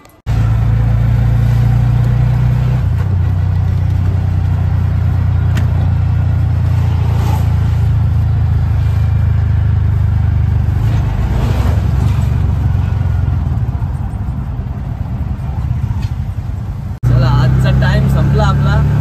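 An auto rickshaw's engine runs loud and close as it sets off, a steady low drone that holds almost unbroken before a brief dip and restart near the end.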